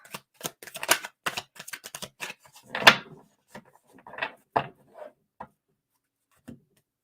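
Crisp papery snaps and riffles of cards being shuffled close by, coming in quick clusters and then thinning out to a few isolated taps.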